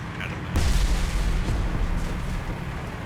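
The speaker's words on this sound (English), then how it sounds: "Here's artillery." Artillery fire in the War Thunder tank game: a heavy boom lands about half a second in, followed by a long, loud, rumbling roll that slowly dies away with no voices.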